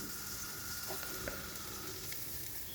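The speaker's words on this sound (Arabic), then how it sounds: "ابدا بقى اجيب طاسه احط فيها معلقتين زبده" Two spoonfuls of butter sizzle in a frying pan with a soft, steady crackling hiss, faint and even for a few seconds.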